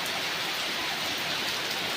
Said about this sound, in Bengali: প্রচণ্ড পরিমাণে মেঘ ডাকছে, বৃষ্টি পড়ছে।